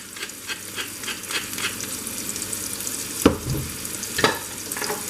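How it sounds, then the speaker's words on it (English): Onions fry in a pan with a loud, steady sizzle up close, broken by a couple of sharper stirring scrapes midway and toward the end, seasoned with thyme, salt and pepper for a lamb mince pie. "As we indeed fry up our onions."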